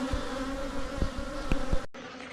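Bees buzz in a dense, droning hum during a large bee removal from a shed floor, with a few soft knocks underneath before the sound cuts off abruptly near the end.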